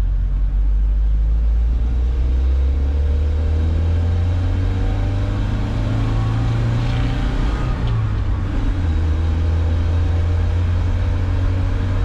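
A rebuilt truck engine runs steadily on the road during a first drive after its build, a loud continuous low rumble with rising and falling revs and a brief shift midway.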